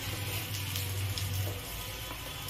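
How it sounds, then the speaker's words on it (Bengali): Bengali gola ruti batter frying gently in a pan over low gas, a soft continuous sizzle with a low steady hum beneath it, close and unbroken, with no talking. "এভাবে আস্তে আস্তে এবার ভাজা হতে থাকবে।"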